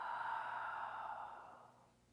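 A soft, drawn-out breath out during a boxing and yoga workout, close and breathy, slowly fading over about two seconds.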